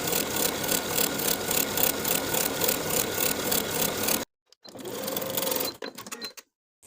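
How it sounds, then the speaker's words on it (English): A sewing machine topstitches a quarter-inch seam allowance on fabric. A rapid, even mechanical chatter runs for about four seconds, stops, then comes back as a shorter burst that ends in a few scattered clicks. "I'm going to top stitch the seam allowance along the side that I've pressed it toward with a 1/4 inch seam allowance"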